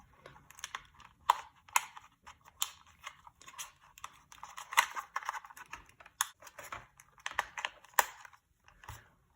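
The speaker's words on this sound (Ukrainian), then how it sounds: "І от сюди вставляється оцей датчик" Small plastic parts of a DJI D6 Air drone click and snap softly as a sensor is pushed into place, a close run of light, irregular clicks and taps like keyboard typing.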